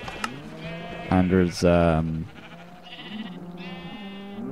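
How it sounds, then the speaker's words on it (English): Sheep bleat in Minecraft, a couple of clear, wavering cries close by, followed by softer, higher bleats further off, with someone talking over the game sounds. "Shear all the sheep."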